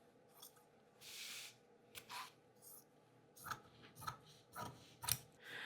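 Scissors snip down the side seam of a cotton dress shirt, a series of close, dry cutting crunches and rustles of fabric coming in uneven bursts.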